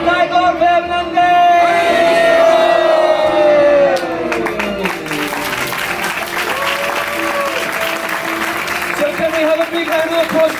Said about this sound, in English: Can we have a big round of applause for all actors, come forward.